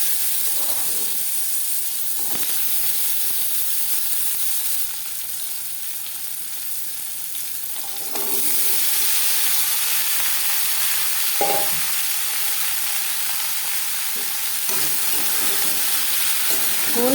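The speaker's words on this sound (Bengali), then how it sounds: "জিরে শুকনো লঙ্কা ভেজে নেওয়ার পর দিয়ে দেব ডাঁটা।" Drumstick stalks fry with cumin seeds and dry red chillies in a pan, giving a loud, continuous hissing sizzle, with a few scraping knocks from stirring and the hiss briefly easing midway; there is no talk.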